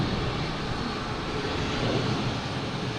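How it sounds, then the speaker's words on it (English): A JetBlue Airbus A321 arriving from Cancun lands at Boston Logan with a loud, steady engine roar close by, unbroken for the whole moment. "A321 coming in from Cancun."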